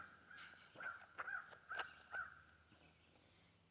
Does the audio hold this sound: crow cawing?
yes